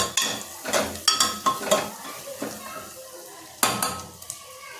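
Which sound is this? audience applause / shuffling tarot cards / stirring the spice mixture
stirring the spice mixture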